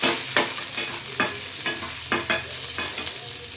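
Onion and tomato frying in a pan, with a steady sizzle broken by rhythmic scraping strokes of a spatula stirring about every half second, close and fairly loud.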